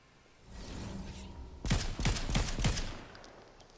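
Bursts of gunfire in Fortnite, a cluster of four or five sharp shots in quick succession after a softer rushing build-up, fairly close and loud with no talking.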